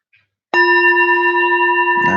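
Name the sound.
bell being tapped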